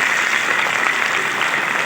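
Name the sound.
loud clapping for the children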